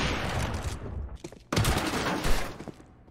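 Gunfire from a Glock pistol and an AK rifle in a Counter-Strike pro match, loud bursts of shots that drop off near the middle and then come back in a second dense volley.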